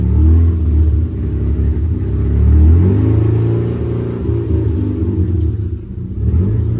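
Bridgeport-ported rotary engine in a manually converted Mazda RX-8, idling close and loud with a rough, lumpy rumble that swells and dips as the car is put into gear.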